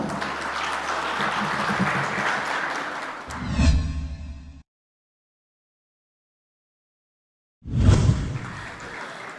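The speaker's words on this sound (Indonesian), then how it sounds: "Tepuk tangan untuk Anda semua." Applause at a Public Relations Indonesia award ceremony in Jakarta, a broad wash of clapping that swells, then cuts off abruptly into silence before a loud burst resumes near the end.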